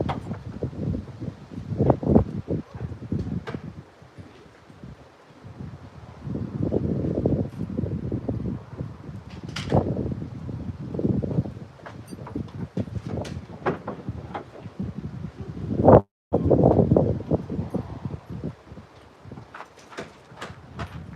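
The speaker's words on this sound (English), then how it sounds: "I don't know where this wind came from, but I like it" Gusty outdoor wind buffets the microphone in uneven bursts, rising and falling with rustling, loud and close throughout.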